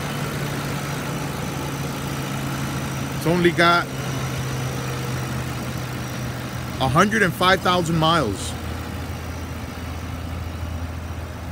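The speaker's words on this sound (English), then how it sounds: "It idles smooth, revs up nice." A 2011 Ford Crown Victoria Police Interceptor with a 4.6 liter V8 idles steadily with a low, even hum, while someone talks briefly twice over it.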